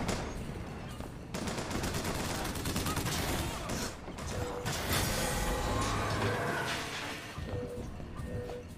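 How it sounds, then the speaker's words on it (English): Rapid bursts of Mauser pistol gunfire in the video game Bioshock Infinite, loud and close, with dense overlapping shots and combat noise running through the whole stretch. "That Mauser, this is a really fun pistol to use."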